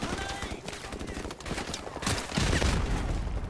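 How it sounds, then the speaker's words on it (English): Rapid bursts of gunfire ring out in the video game Call of Duty 4: Modern Warfare, irregular clattering shots that grow louder toward the end, mixed with game noise and some speech-like sounds. "Who's shooting from there?"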